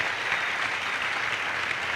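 A church congregation applauds in a dense, steady burst of clapping, loud and even throughout.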